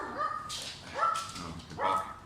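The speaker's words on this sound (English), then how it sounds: "Duke's barking at the hobos." A dog barks three times in a row, fairly close, with brief pauses between the sharp, slightly whining barks.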